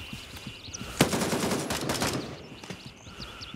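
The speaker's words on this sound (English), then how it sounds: "this shot sounds so close to me." Gunfire in the military shooter Gray Zone Warfare: a sharp close shot followed by a rapid burst of automatic fire and scattered cracks, loud and alone.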